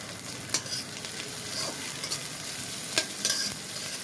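Greens with chopped ginger and green chilli fry and sizzle steadily in a pan, with a few sharp stirring clatters breaking through the constant hiss.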